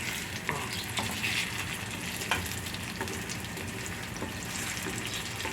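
An egg fries in a generous amount of oil for a tomato egg dish, crackling and sizzling steadily up close with a few light spatula taps, no voices.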